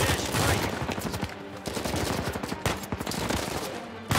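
Rapid bursts of gunfire in the video game Uncharted 4 crackle almost continuously, loud and dense, with a few brief pauses between volleys.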